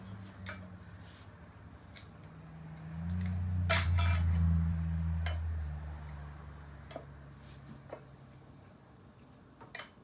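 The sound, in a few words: placing metal lids on glass canning jars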